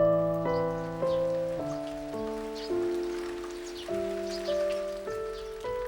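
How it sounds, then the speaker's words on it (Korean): Rain falls steadily on a Korean melon farm, a soft continuous patter that sits beneath prominent background music for the whole stretch. "더위를 식혀주는 단비가 내립니다"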